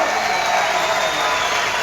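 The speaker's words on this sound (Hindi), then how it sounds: "सबसे पहले मोदी जी के लिए ताली बजाइए।" A crowd at an outdoor political public meeting in Udhampur claps in a dense, sustained burst of applause that fills the whole brief moment, loud and unbroken.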